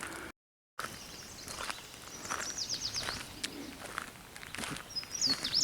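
Bird calls at Glimmerglass State Park in Cooperstown, New York, on a rainy day: several short chirps and trilled notes at a moderate distance over a soft outdoor background, with a few footsteps.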